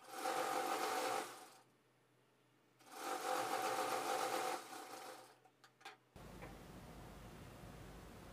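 A sewing machine top-stitches the lining of a size 36 boat-neck blouse in two close, buzzing runs of about a second and a half each, separated by a short pause, followed by softer handling noise.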